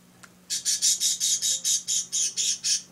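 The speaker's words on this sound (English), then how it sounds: "there goes the bird again" Pet bird squawking indoors in a rhythmic series of about eleven loud, harsh calls, close to the listener, with a faint steady hum underneath.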